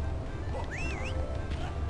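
A short warbling, pitch-swooping creature call of a Jinjo in Banjo-Kazooie: Grunty's Revenge, rising and looping over steady game music and background ambience.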